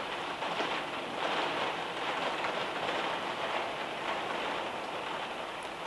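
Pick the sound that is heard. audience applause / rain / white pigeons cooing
rain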